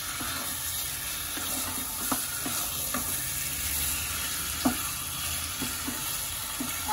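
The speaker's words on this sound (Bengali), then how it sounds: "5 মিনিট মতন আমি একটুখানি হাই ফ্লেমে কষিয়ে নেব" Chicken with spices and curry leaves sautéed on high flame, a constant close sizzle broken by sporadic crisp pops and spatula scrapes against the pan, with no voices.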